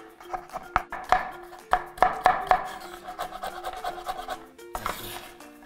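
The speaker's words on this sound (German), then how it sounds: "grob hacken" Pecans being coarsely chopped with a knife for a no-bake matcha cake: a close series of sharp, irregular blade strikes and scraping on a cutting board, with no voices.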